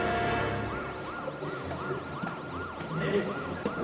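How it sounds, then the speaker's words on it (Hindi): An ambulance siren wails in repeated rising-and-falling cycles, fairly loud and steady over a low traffic rumble. "एम्बुलेंस है क्या?"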